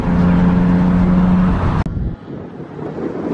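Cars on a road drive past, a steady loud engine and tire rumble that ends with a sharp break, then a quieter, more distant stretch of traffic noise.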